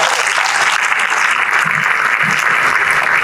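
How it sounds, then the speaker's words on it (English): An induction ceremony audience claps loudly for its institute, a dense, close, continuous burst of applause that fills the whole moment without letup. "Please clap for your institute."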